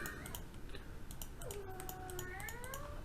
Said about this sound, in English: one of my cats is being a little bit noisy